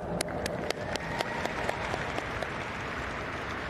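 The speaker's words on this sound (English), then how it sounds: "please give them a round of applause" Audience applause at a women's military football championship opening ceremony, a dense steady clapping crowd with a few sharper individual claps standing out, sustained throughout.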